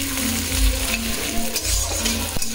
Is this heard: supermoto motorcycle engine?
no